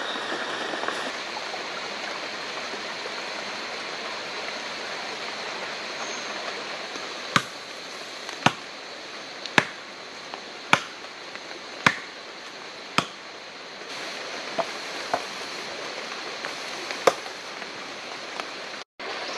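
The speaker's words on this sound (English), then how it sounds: "Even better in the rain." Steady rain falling in the Costa Rican rainforest, a continuous close hiss with a series of sharp knocks or drips standing out over it, no talk.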